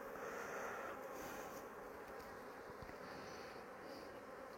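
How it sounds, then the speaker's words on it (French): A honeybee trapped inside a hive buzzes in a faint, continuous drone, close and steady throughout, with no voices. "Il y a une abeille coincée là-dedans."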